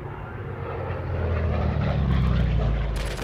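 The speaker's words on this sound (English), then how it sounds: "Within minutes, every operational U.S. plane was in the air." A WWII-era propeller aircraft in flight as a film sound effect, a loud droning engine roar that builds steadily and holds close, with a brief sharper burst near the end.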